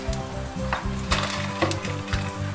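Dried red chillies, broken by hand, sizzle in hot oil as a loud, close, continuous crackle with irregular pops and spatters.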